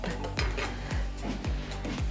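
Repeated soft thuds and clatters as yantyk pastries are placed onto a hot dry frying pan, about four or five evenly spaced knocks over a low background hum, close up with no talking.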